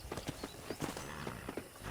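Horse hooves clip-clop in a steady trotting rhythm during riding in the Red Dead Redemption video game, each footfall distinct and close, with no talk over them.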